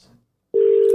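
A telephone gives a single short electronic tone, loud and steady for under half a second after a moment of near silence.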